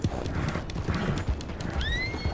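Rapid hoofbeats of a galloping horse in Red Dead Redemption 2 pound steadily, then a high whinny rises near the end, loud and close.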